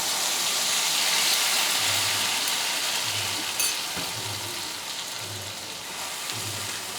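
Green chili and mustard-poppy seed paste sizzle in hot oil, a dense continuous frying hiss with a soft stirring clack partway through.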